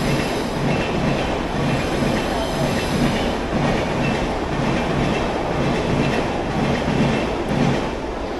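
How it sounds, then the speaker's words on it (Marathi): A train rolls past at close range near the Parel area of Mumbai, a loud, continuous rumble with rhythmic wheel clatter and faint squeal that holds steady from start to finish. "आणि आता रेल्वेचा आवाज ऐकू शकताय तुम्ही"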